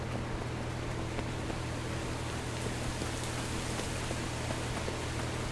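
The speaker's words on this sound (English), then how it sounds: "And it's frickin' raining out." Rain falls outside as a steady, soft, even hiss of drops on a surface, faint and continuous with a low hum beneath it and no talking.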